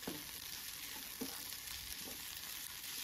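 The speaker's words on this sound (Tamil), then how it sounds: "இது அப்படியே இஞ்சி பூண்டு வாசனை போகட்டும், அது வரைக்கும் நல்லா வதக்கி விடலாம்" Ginger garlic paste sautés in a pan with a steady hiss and sizzle, and a few soft stirring scrapes come at intervals, close and fairly quiet, with no talk.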